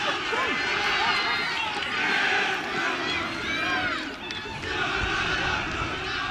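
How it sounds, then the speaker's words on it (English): A crowd cheers from the far side of the pitch at a schools rugby match between Wellington College and Millfield, a sustained roar with shouts rising and falling, while a commentator talks over it. "The cheer goes up on the far side."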